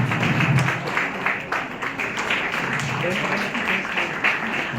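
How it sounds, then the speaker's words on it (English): An audience at a blue economy event applauds the registrar, producing a dense, continuous patter of many hands clapping at moderate loudness throughout. "going to give our big applause for encouragement"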